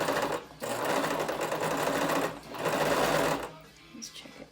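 A home sewing machine stitching fabric for a ruffle top runs in steady mechanical bursts, pausing briefly between runs, close and clear, with a voice talking quietly under it.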